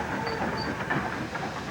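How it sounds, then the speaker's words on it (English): A steam locomotive moves forward into a railway siding, giving a steady rolling rumble with a soft hiss and faint clanking running throughout, at moderate distance, with no talk. "Steam locomotive went forward into a siding."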